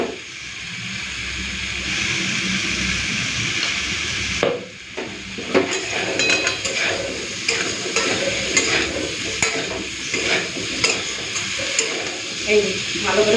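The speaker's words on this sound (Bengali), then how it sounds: "সবজিটাকে হালকা ভেজে নিয়েছি, মানে কুমড়ো, আলু, বেগুন, ডাঁটাটাকে হালকা ভেজে নিলাম" Pumpkin, potato, eggplant and vegetable stalks sizzle steadily in a hot oiled pan, a constant close hiss broken by scraping stirs of a spatula.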